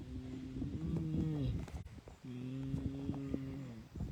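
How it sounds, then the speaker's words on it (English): Low, drawn-out mooing calls at a wildcat sanctuary, two long tonal moans close by separated by a brief pause. "We're getting mooing."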